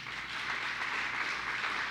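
Steady, dense applause from an audience at a Christian leadership talk, holding an even level throughout with no break.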